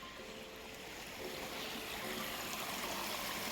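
Water in a stream runs steadily through a hilly nature park in winter, a soft continuous trickle and rush that swells slightly toward the end, with no voices.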